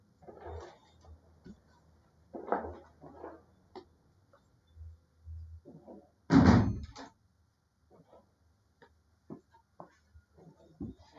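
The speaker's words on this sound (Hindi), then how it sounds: "एक मिनट में दरवाजा बंद करती हूँ" A door is swung shut indoors with one loud, close thud partway through, surrounded by faint scattered knocks, shuffling and footsteps in an otherwise quiet room.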